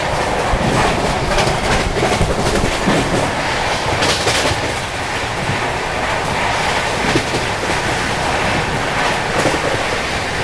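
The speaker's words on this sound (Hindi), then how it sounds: "अभी देखो ट्रेन जस्ट निकली है अपनी और लो 130 की एमपीएच स्पीड भी टच कर ली है।" A Delhi Howrah Rajdhani Express races along at about 130 mph, giving a loud, steady roar of wheels on rail with rushing wind and faint clickety-clack rhythm throughout.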